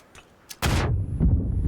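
A grenade explodes in an online multiplayer shooter match, a sudden loud boom with a rumbling tail after a few faint distant shots.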